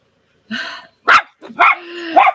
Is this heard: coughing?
no